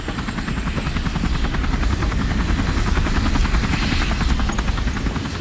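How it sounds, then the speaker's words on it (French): Helicopter arriving in Resident Evil 4 Remake, a steady close rotor chop and engine whine filling the scene without pause, loud and alone with no voices. "L'hélico est là."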